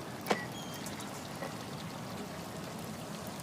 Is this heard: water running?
yes